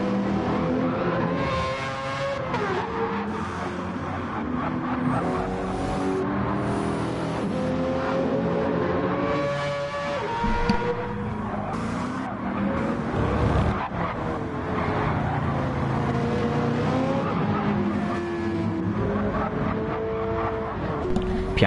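A BMW Gr.3 race car and rival machines from Gran Turismo 7 race around a Spanish circuit, their engines making a steady, loud, layered roar with rising and falling revs and brief tire squeals.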